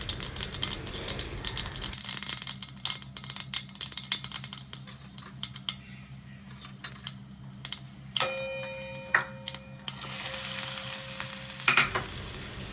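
Mustard seeds, cumin, asafoetida and turmeric hit hot oil on a low flame for a Gujarati kantola vegetable dish, giving a steady close crackling sizzle with scattered pops and a few clinks and scrapes, no talking.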